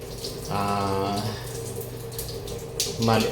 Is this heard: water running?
yes